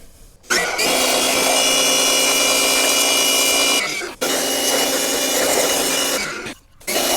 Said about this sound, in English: I'm hit this with the pressure washer again